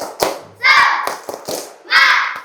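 Children in a primary school PE class do a rhythmic 'tepuk semangat' clapping game as an ice breaker, with sharp hand claps and thumps alternating with bursts of chanted children's voices.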